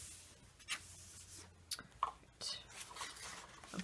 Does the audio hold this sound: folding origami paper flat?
yes